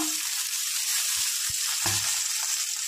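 Ginger paste sizzles in hot oil in a pan, with a loud, steady frying hiss running throughout and a few soft knocks of a spoon against the pan.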